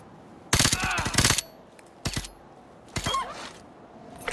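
Gunfire in Call of Duty MW2 Campaign Remastered: a loud burst of rapid shots, a single sharp report, then another cluster of shots with a short ringing tail, all close and without talk.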